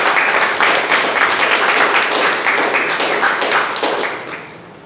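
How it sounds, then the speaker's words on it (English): An audience at a Toastmasters club table topics contest claps for the chief judge, a close, lively burst of applause that holds steady for several seconds and then thins out and fades at the end. "Please have a huge round of applause for our chief judge Toastmasters Club."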